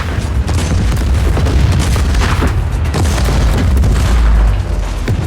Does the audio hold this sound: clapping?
no